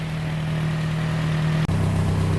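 Ford GPW jeep engine idling nearby, a steady low droning hum that keeps running evenly, with a brief click partway through and no talking.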